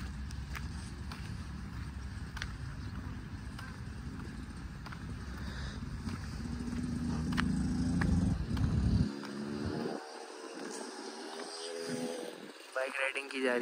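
A motorcycle rides along a shallow-water beach in Auckland, a low engine rumble running under someone talking before it drops away, leaving open beach ambience.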